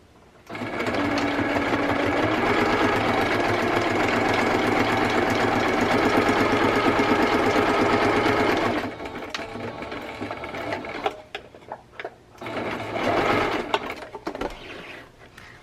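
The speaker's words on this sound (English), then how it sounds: "Cannot believe I'm sewing on my YouTube channel." A sewing machine stitching the spine of a fabric travel notebook insert cover runs loud and steady for several seconds, stops, then a few shorter handling noises and bursts of stitching follow.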